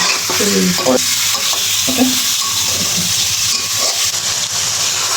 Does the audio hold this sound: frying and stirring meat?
yes